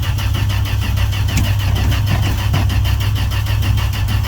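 An old Dodge D100 pickup truck engine fires up from a cold start and settles into a loud, rough, rhythmic idle with a steady low rumble, heard up close from the passenger seat.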